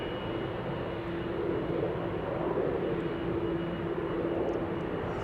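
A KLM airliner at Amsterdam Schiphol Airport gives a steady, even engine rumble with a faint tonal whine, heard at moderate distance and unbroken throughout.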